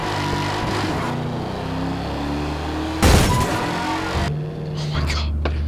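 A car in Garry's Mod drives with a droning, shifting engine hum, then smashes into something with one loud crunching impact midway, followed by rougher engine noise and scattered knocks.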